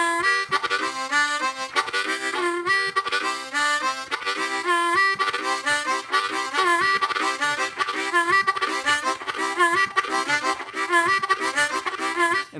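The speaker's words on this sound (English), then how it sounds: "So I might alternate that with the octave so it would sound like this" Harmonica chugging a steady blues train rhythm, switching back and forth with a higher octave note, continuous and loud with no talking.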